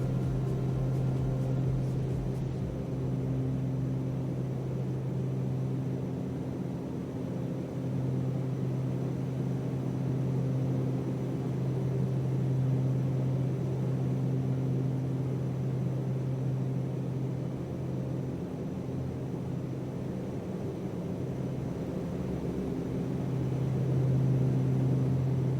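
Beechcraft Starship turboprop engines in a flight simulator, a steady droning hum with strong low tones that holds evenly for the whole stretch, continuous and fairly loud with no talk.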